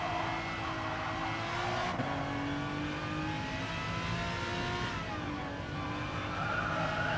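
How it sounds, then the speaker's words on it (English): Tyres locking up and skidding under braking into a corner in the Gran Turismo Sport racing game, a steady screech over the roar of race car engines at constant volume. "Braking for the first corner, the car ahead does have a little bit of a lock up"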